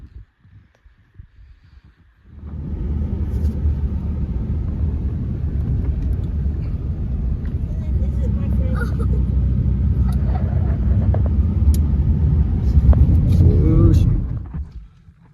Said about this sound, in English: We're in the truck scouting this morning.